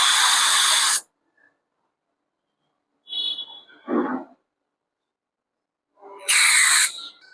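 An aerosol cleaner sprays a Royal Enfield 650 MAP sensor in short bursts, a hard loud hiss, a pause, two weaker sputtering squirts, then another strong close-up blast.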